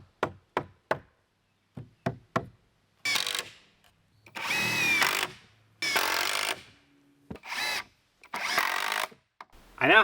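A power drill drives screws into a wooden king stud beside a window opening in a shop wall framing, with several sharp knocks first, then repeated loud whirring bursts of one to two seconds.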